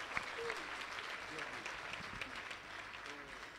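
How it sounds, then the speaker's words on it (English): Wedding congregation clapping in a church setting, a soft, fairly distant wash of applause at low level, with a voice and some scattered sounds mixed faintly underneath. "Let's give Jesus a very big clap."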